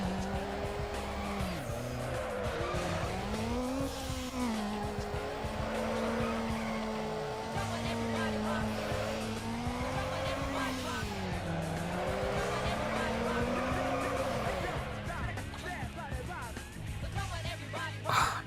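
A Need for Speed Underground video game race car engine revs and whines continuously with rising and falling pitch, tires squealing at moments, loud and close throughout.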